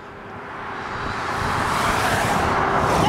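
Traffic on a road through the San Carlos Reservation near Bylas, Arizona, passing a cyclist: a broad, steady roar that swells over a few seconds as vehicles approach, with no voices.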